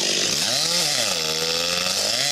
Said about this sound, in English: and this one chainsaw